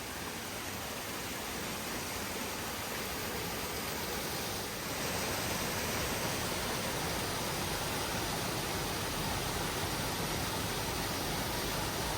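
A Himalayan waterfall on the Gaumukh–Tapovan trek makes a constant, dense roar of falling water, steady and broad throughout, swelling slightly louder midway with no voices.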